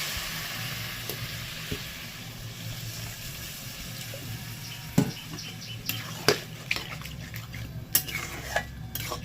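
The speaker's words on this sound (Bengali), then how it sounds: "টকবক করে ফুটতে শুরু করেছে" Prawn and soya kofta curry bubbles in a pan after water is added, a steady low simmering crackle with occasional sharp clinks of a utensil against the pan.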